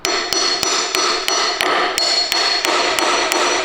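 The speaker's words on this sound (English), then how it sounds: "What do we do, hammer it back?" Sharp metallic hammer blows on a crank bolt of a Datsun 280Z strike at a steady rhythm, about ten hits over a constant loud mechanical hum, close and forceful.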